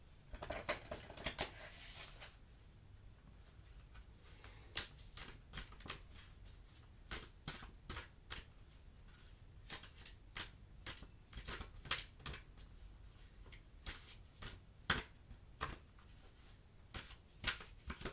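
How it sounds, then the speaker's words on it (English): Moonology oracle card deck being shuffled close up, a steady run of crisp riffling slaps and soft card flutters that repeats throughout with no talking. "let's shuffle the Moonology deck"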